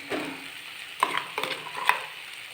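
Onion paste hits hot oil with fried ginger and frays into a soft sizzle, with a few sharp scraping stirs of a spatula against the pan in a quiet kitchen.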